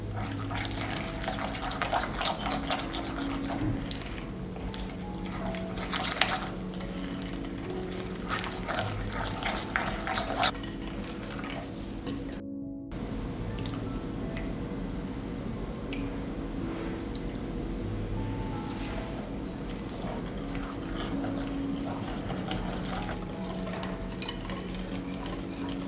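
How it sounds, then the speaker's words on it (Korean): A whisk stirs plain yogurt, cream and lemon juice together in a bowl, giving a steady, soft, continuous scraping and sloshing at close range with faint clinks, and no voices. "플레인 요거트와 생크림, 레몬즙을 넣고 거품기로 잘 섞어주세요."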